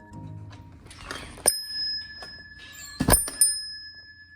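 A bell hung at a general store door rings a few times, bright metallic chimes with short ringing decay, mixed with a thunk and light handling noise.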